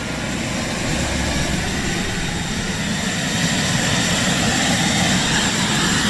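A Jet Provost's Rolls-Royce Viper jet engine runs steadily, a loud continuous roar with a high whine layered on top, heard close and unbroken.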